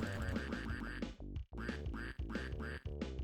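Duck quacks in the video game Rogue Labyrinth, a rapid run of loud, nasal quacks in close succession with brief gaps between groups.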